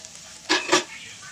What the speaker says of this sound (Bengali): লঙ্কা গুঁড়ো, হলুদ গুঁড়ো, অল্প পরিমাণে ধনে জিরে গুঁড়ো দিয়ে ভালো করে নাড়াচাড়া